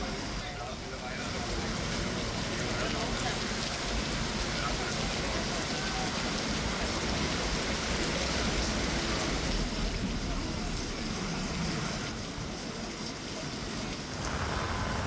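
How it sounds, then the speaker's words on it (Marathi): Heavy rain driven by stormy wind roars as a dense, continuous wash across Kalyan Dombivli, with the intensity swelling and easing slightly over time. "वादळी वाऱ्यासह मुसळधार पाऊस बरसतोय"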